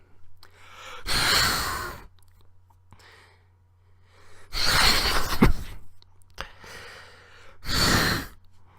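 Someone mimics blowing their nose: several sharp, breathy nasal blasts of varying length with brief quiet gaps between them, close and fairly soft.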